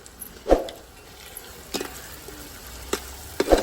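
Homemade masala being stirred into cooked onion and tomato for Agari-style chicken, a soft background sizzle broken by several distinct scraping knocks of a spoon against the pan.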